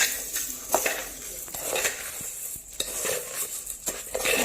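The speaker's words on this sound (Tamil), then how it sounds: "நல்லா ஸ்பீடாக டக்கு டக்கு டக்குன்னு கிண்டி விடுவோம்" Puffed rice with syrup stirred fast in a small pot: quick irregular scraping and clinking of a spoon against metal, close and fairly loud, with no talk.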